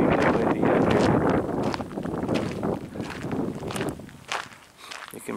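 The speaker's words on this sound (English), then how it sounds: "It's extremely windy out here." Strong wind buffets the microphone on a hiking trail through swamplands used by mountain bikers, a loud rumbling gusty roar that rises and falls unevenly, with crunching steps mixed in.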